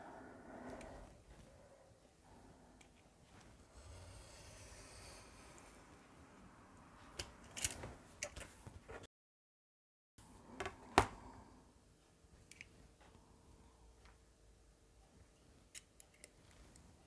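Scissors cut through card for a handmade pop-up Christmas album, giving a scatter of faint, crisp snips and clicks with brief pauses in a quiet room.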